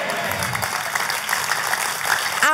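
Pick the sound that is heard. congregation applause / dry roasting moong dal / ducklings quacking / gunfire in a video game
congregation applause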